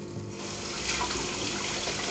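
Water runs steadily from a tap as a hand is washed, a continuous close splashing flow that swells slightly midway, with no voices.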